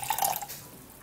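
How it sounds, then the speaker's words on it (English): Water poured into a pot for making tea, a brief trickling splash that fades quickly to quiet. "So you're basically gonna be making a tea out of this, guys. So you actually put in water."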